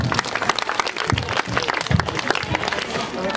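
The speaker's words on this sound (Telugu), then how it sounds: "గట్టిగా క్లాప్స్ కొట్టాలండి." An audience at a Women's Day celebration and sports event claps in a dense, continuous burst, with voices and crowd noise mixed throughout.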